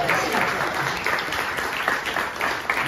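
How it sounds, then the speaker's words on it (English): An audience breaks into steady, close applause for a radio station ID logo during a talk about Hi-NRG music, a dense wash of clapping lasting a few seconds. "That's the first time I've ever heard a station logo applauded."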